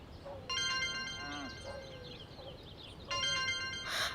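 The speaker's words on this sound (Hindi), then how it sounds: "बाबा का फोन है।" A mobile phone ringtone plays two bursts of bright, repeating electronic tones separated by a pause, with a brief voice and a soft chime between the rings.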